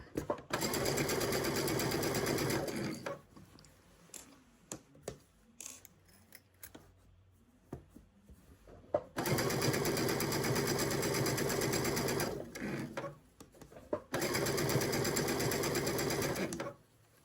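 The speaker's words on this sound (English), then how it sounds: "I will back stitch in my lock stitch" A sewing machine runs in long loud bursts, back stitching a lock stitch on a sweater, stopping in between for quieter handling noises and brief clicks before starting up again.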